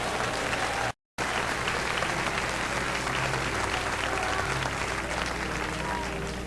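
Steady, dense applause from a church congregation fills the room, broken by a brief dropout near the start, then continuing at full strength with crowd murmur beneath.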